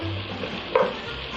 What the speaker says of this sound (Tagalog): Okay, hahaluin ko lang ng kaunti.